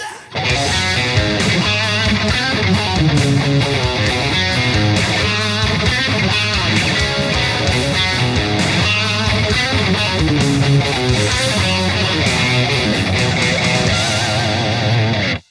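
Electric guitar playing the ending riff, a dense, continuous rhythm part with a full band-like wash that stays loud and steady for about fifteen seconds before cutting off.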